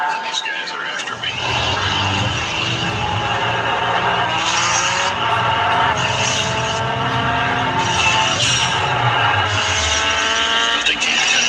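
A turbo Z sports car races at high revs, its engine note rising and falling in a continuous roar with repeated gear-change surges, heard loudly beneath a talking voice.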